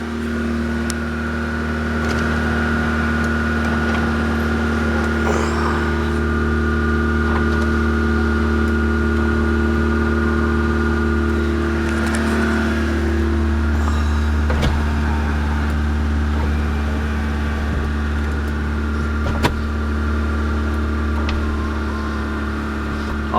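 A 1995 Honda Civic engine, freshly fitted with a new head gasket, runs at a smooth, steady idle for the whole stretch, a constant close hum with no voices.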